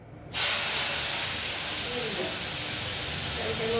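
A sudden loud hiss bursts out as food hits hot oil in a pan for an aloo, begun and prawn curry, then settles into a steady, close, continuous sizzle.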